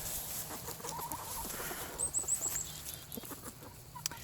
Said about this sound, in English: I decided to let the chickens out. I don't know if you can hear their happy little clucking sounds